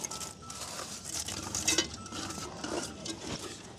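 A utensil scrapes and clinks against a pan while fried onion and curry leaves are turned over, a quiet uneven run of stirring taps and light metallic knocks.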